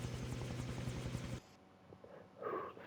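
Helicopter rotor thumping fills the first half in the video game Far Cry 3, a loud rhythmic chop that cuts off abruptly, leaving quiet background with a faint tonal sound afterward.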